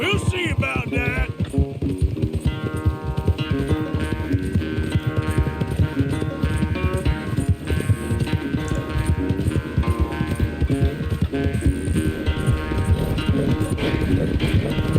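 Horses gallop in a race in the video game Red Dead Redemption 2, a loud continuous rapid clip-clop of hooves with music playing over it throughout.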